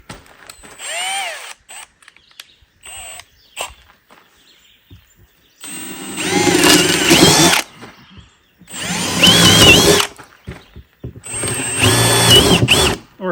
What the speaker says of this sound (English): Go ahead and drill a hole or two.